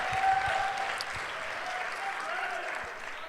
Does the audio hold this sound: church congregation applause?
yes